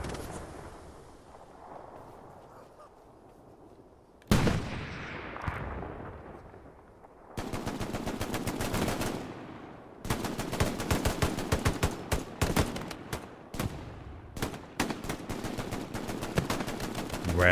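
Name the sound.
gunfire and machine gun fire in a video game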